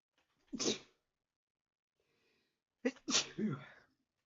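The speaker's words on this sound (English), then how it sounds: "I'm going to sneeze." Two sneezes, the first short and sharp, then after a pause a louder, longer one with a breathy wind-up, both close by in a quiet room.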